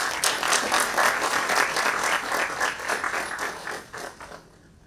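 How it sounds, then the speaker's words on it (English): An audience at a culinary and hospitality conference applauds a speaker, with dense clapping that holds steady and then fades away. "Give a huge round of applause"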